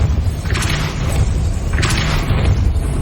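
Two loud whooshing bursts of a Depulso spell cast in Hogwarts Legacy, each a brief airy blast over a constant low rumbling game backdrop, about a second apart.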